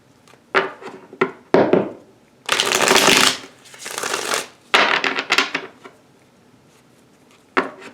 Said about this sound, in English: Sorry I'm shuffling so much.